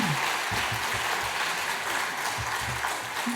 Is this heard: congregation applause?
yes